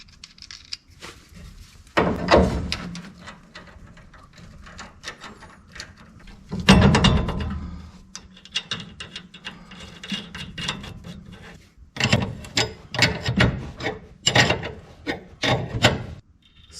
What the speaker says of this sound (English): Let's get our tie rod in next.